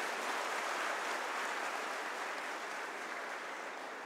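Audience applause at a live Guru Purnima festival program, a faint, steady wash of clapping that holds evenly throughout.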